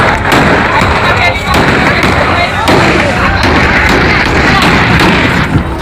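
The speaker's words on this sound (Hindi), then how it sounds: "ये देखें किस तरीके से इन्होंने दहशतगर्दी का मुजाहिरा किया है और हवाई फायरिंग कर रहे हैं।" Aerial gunfire during a public clash between PPP and PTI party workers: sharp cracks burst through a loud, continuous crowd din, with shouting voices throughout.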